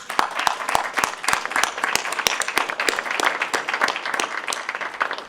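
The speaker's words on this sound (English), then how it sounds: "we give Mayor Church another round of applause as well as Yes. Congressman Turner." Audience applause for Mayor Richard Church and Congressman Turner at a Mound Connector press conference: dense, steady clapping from a sizeable crowd that fills the full few seconds at an even level.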